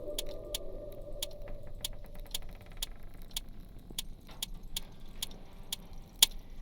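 A door code is keyed in within the video game Detective Club 2: a series of short, crisp button clicks at a steady pace over a low hum, followed by a slightly louder final click.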